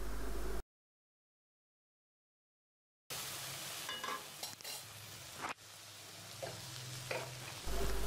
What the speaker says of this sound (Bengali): এখন দিয়ে দিলাম ধুয়ে রাখা অল্প কিছু চিংড়ি মাছ, দিয়ে রান্না করে নেব কিছুক্ষণ।